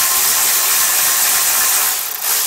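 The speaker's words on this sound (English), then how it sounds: "we're going to need to pull these recoil housing bolts off" A ratchet works loose the recoil housing bolts on a lawn mower engine, a close, loud, dense mechanical whirring and clicking that holds steady and dips briefly near the end.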